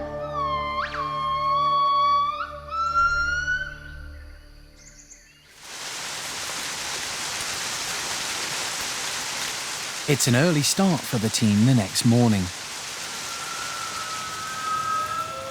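Steady rain hisses down over the forest for most of the stretch, loud and broadband, after an opening of bird calls; someone narrates over the downpour partway through.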